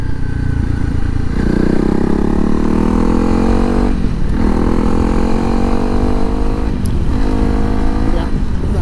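A Honda CRF300 Rally motorcycle with a loud aftermarket exhaust rides along the road, its engine droning steadily with a few brief dips as the rider shifts or eases off the throttle.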